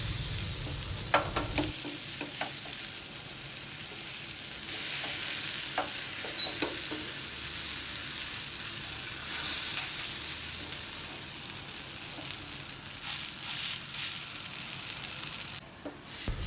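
Tofu and chaap frying in a pan, a steady soft sizzle running throughout with a few scraping stirs and clinks of a utensil against the pan, close and moderately loud with no talking.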